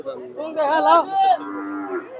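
A single long, loud moo from a cow close by at a bustling cattle market, rising and then trailing off over about two seconds.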